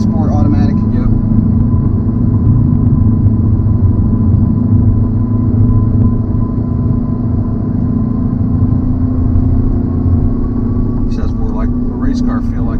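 A 2020 MINI Cooper S with a 7-speed dual-clutch transmission driving in sport mode, a steady loud engine and road rumble throughout, with a couple of brief clicks near the end.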